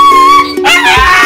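A dog making whimpering, yipping howl-like vocal sounds at an outdoor street festival in Danao City, loud and close, with no talk over it.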